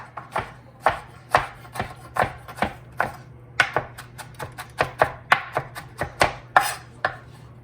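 Knife chopping peppers and onions on a cutting board for chicken quesadillas, a steady series of sharp, close thuds at an uneven rhythm with a low hum underneath.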